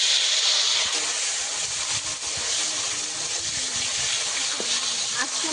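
Bay leaves, whole cumin and chopped tomato fry in hot oil with a steady loud sizzle and hiss throughout, a few faint scrapes of stirring underneath.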